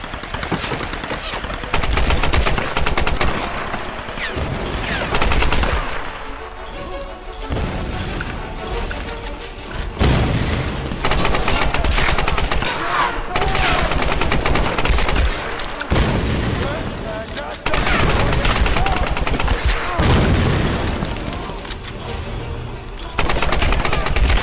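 Rapid bursts of gunfire from the video game Tomb Raider crack out in loud, dense volleys, repeated automatic fire alternating with brief pauses across the whole stretch.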